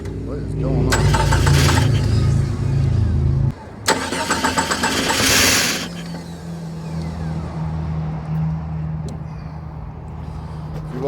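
A car engine that has just been repaired cranks and catches, drops out for a moment, then cranks again and settles into a steady idle, with people talking nearby.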